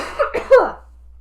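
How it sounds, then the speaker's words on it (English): A few rough coughs in quick succession, close and fairly loud, ending in silence. "I have to cough"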